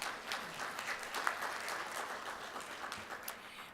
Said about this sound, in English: Can you give a round of applause to Ms.